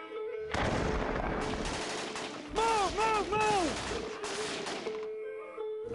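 Gunfire and explosions rumble through a Vietnam War documentary scene from 1966: dense, loud bursts of shooting and blasts rolling almost continuously, with a brief tonal, cry-like sound rising in the middle.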